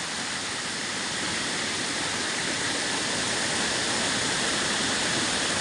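A forest stream in a wild area runs as a steady, loud, broadband rush of flowing water, unbroken and even throughout with no voices.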